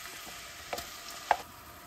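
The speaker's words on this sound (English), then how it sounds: "Drop in the finely chopped onion and green chili." Finely chopped onion and green chili sauté in a pan on a medium flame, a low, steady sizzle with a few soft stirring clicks and one sharper scrape, heard close and alone.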